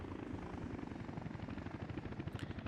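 Helicopters in the Workers & Resources game produce a steady, throbbing rotor chop with low engine rumble, continuous and moderately loud throughout, with no talking.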